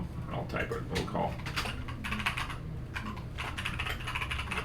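Computer keyboard typing while notes are entered during a Go game review, a steady close clatter of rapid keystrokes running the whole time, with a voice talking over it.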